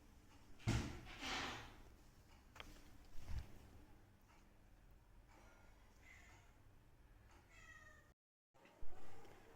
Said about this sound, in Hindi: नई बिल्ली की एंट्री हो गई है